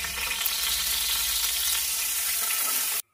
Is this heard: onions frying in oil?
yes